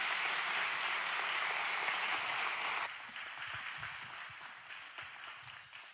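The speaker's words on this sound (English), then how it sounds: "give Rhonda a great round of applause for joining us today." Audience applause fills a church service for a guest on stage, loud and steady for about three seconds before thinning into scattered clapping.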